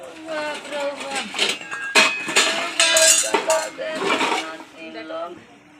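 Steel utensils and pots clank and clink repeatedly as dishes are washed by hand in a home, a busy run of sharp metallic knocks, with a voice talking over them.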